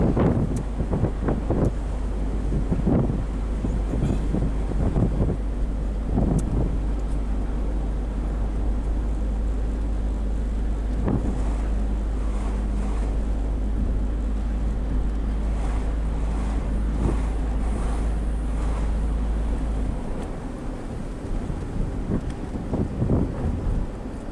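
A Nissan Primera driving on the road, with low engine rumble and heavy wind buffeting throughout, plus a few louder thumps as gears are shifted, and the noise easing toward the end.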